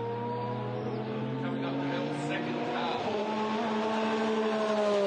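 Porsche race cars roar past in close racing at the Hampton Downs 12 Hour endurance event, engines droning with a steady pitch that rises and shifts over the run, under a faint commentary voice.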